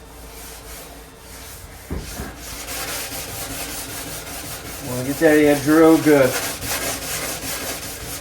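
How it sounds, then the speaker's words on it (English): A scuff pad rubs back and forth along the seams of a 1932 coupe's body, a steady abrasive scrubbing with a few louder rhythmic strokes, while someone talks over it. "I'm gonna get all the way in there with scuff pads so that we make sure that is sanded so the paint sticks really good"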